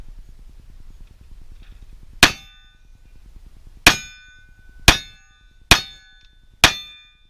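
Five bullet strikes ring out sharply on a powder coated steel target, each a loud metallic clang with a short decaying ring, spaced about a second apart after a quiet lead-in.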